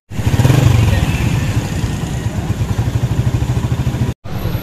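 A Honda 125 motorcycle engine runs close by with a loud, rapid, even putter, a steady idle-like chug that cuts out abruptly near the end before resuming briefly.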